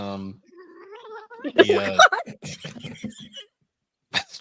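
A cat meows in a drawn-out, wavering cry, followed by a brief burst of voices talking.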